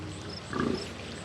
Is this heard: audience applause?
no